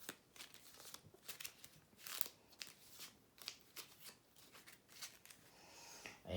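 Organelle cards for the Peptide board game being shuffled by hand, a run of quick riffling card rustles with brief pauses, close and fairly quiet with no talking.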